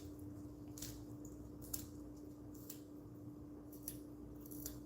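Scissors or a blade snipping through fresh organic potato greens, a series of crisp, close cuts spaced about a second apart over a faint steady hum, with no talking.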